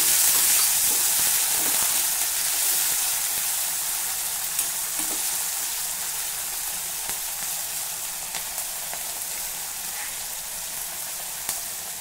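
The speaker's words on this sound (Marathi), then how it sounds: "2 ते 3 टेबलस्पून पाणी घालायचं आहे." Green chillies frying in oil in a pan hiss steadily after a little water is poured in, a broad even sizzle that slowly eases over the span, with faint clicks and no voices.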